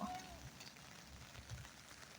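Faint, steady patter of rain on a tent's fly sheet at a campsite in Hiroshima, Japan, a soft continuous hiss with occasional drops, quiet throughout.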